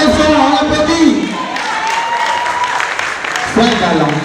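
Audience applause at a short-film premiere, a steady wash of clapping that runs the whole time, with voices and some music or tonal sound mixed in underneath.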